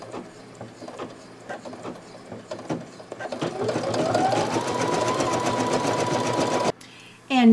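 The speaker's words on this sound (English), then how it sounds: "now I'm doing a thread color change to do the satin stitching on the face and hands" Brother NQ3700D embroidery machine running satin stitching, a dense rapid mechanical chatter that steadies into a continuous whirring drone, stopping abruptly near the end before a short burst resumes.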